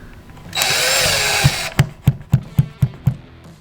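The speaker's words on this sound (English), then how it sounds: "take an 1/8 inch drill bit, just drilled right through the sheetrock" A power drill with a 1/8 inch bit whines for about a second as it bores through sheetrock, followed by a series of sharp, rhythmic taps.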